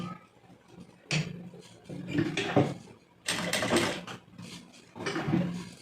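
A sewing machine fitted with a one-side presser foot stitches a blouse in close, loud bursts of rapid mechanical whirring, four or five runs separated by short pauses.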